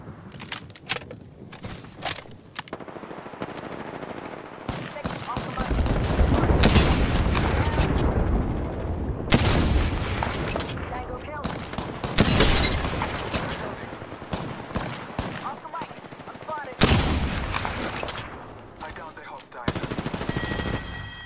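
Video game gunfire rattles in heavy automatic bursts and loud booms, several sustained volleys separated by brief pauses, with game dialogue and voices mixed in between.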